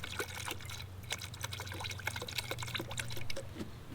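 Six ounces of surfactant herbicide pour and trickle into a container of water for lawn weed spraying, a steady low liquid splashing with faint dribbles, close and quiet with no talk.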